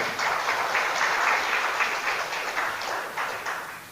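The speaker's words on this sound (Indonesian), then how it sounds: "Tepuk tangan." Crowd applause at an Islamic religious lecture, a steady wash of many hands clapping that holds evenly for a few seconds before easing slightly.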